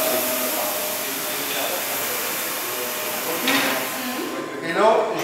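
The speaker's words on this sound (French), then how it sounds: "je vais mettre l'aspiration en marche" A floor cleaning machine with its suction switched on, used on tile, grout and thermoplastic floors, giving a loud steady whooshing hum with a brief swell and clatter near the end.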